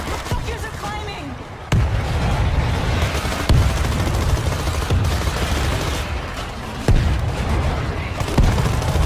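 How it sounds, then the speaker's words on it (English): A grenade blows up in the zombie shooter World War Z amid heavy combat. Several sharp blasts land at intervals over a dense, continuous rumble of gunfire and chaos. "Throwing a grenade."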